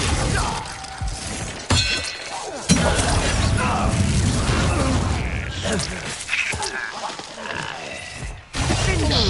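Spell combat in Hogwarts Legacy: a wand spell fires with sharp bursts, shattering crashes and thuds amid game effects, loud and close, with character voices speaking over the action.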